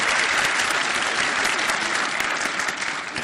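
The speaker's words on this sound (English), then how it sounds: "let's give a round of applause to Kovava." Dense, steady applause from an audience at a new venture competition, a continuous wash of clapping close and fairly loud, with no voices standing out.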